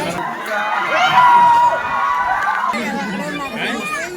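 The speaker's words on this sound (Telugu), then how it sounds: "ఇక్కడైతే పడుకున్న సింహాన్ని అరిచి మరీ నిద్రలేపుతున్నారనమాట అందరూ" A zoo crowd with many children shouting and cheering loudly near a lion enclosure, trying to rouse a sleeping lion; the yells and whoops rise and fall continuously, with scattered chatter mixed in.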